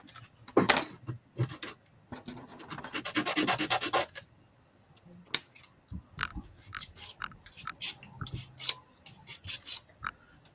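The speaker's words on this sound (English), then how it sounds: "just sandpaper the edges on yours" Sandpaper rubbed along the edges of wooden doll's house pieces, a series of close, uneven rasping strokes in bursts with short pauses between them.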